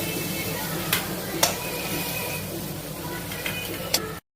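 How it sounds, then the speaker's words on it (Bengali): Prawns frying in a wok give off a steady sizzle, broken by a few sharp clinks of a spatula against the pan, before the sound cuts off abruptly. "চিংড়ি মাছগুলো ভাজা হয়ে গেছে তুলে নেব"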